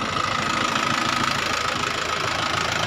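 A 2021 Mahindra 575 XP Plus tractor fitted with hydraulic lift runs continuously under load while pulling a rotavator. The engine gives a loud, close, steady diesel chug with an even knocking rhythm and no talk.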